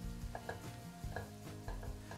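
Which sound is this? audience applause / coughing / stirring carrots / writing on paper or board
stirring carrots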